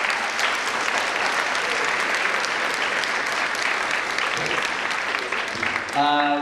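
Indoor audience at a school board of education awards evening claps steadily in sustained applause, with a brief crowd murmur and a voice starting near the end.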